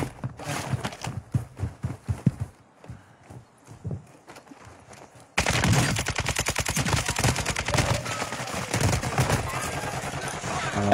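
Gunfire erupts in Call of Duty: Warzone 2 as scattered single shots and footsteps give way to a long, loud, rapid automatic burst that keeps rattling steadily until the end.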